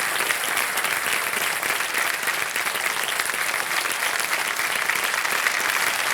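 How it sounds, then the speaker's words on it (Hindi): Standing audience on the KBC quiz-show stage applauds Kajol and Revati, a dense, loud, unbroken wall of clapping that holds steady throughout with no break or voices on top. "खड़े होकर के तालियां बजाई जा रही हैं काजल रेवती जी आपके लिए"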